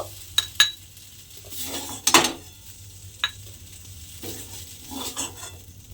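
Metal utensil scraping and clinking against a wok as fried tomato, onion, garlic and green chilli are scooped out, a few sharp clanks and scrapes with a soft sizzle underneath, close and fairly loud.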